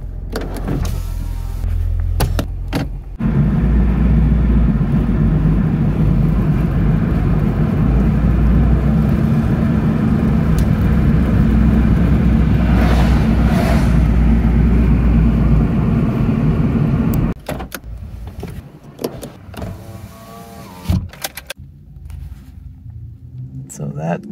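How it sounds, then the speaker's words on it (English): A car moves along a road with a steady low engine and road rumble through most of the stretch, a power window whirring briefly near the start, and quieter interior sounds at the beginning and end; someone talks at times. "Let's go for a drive."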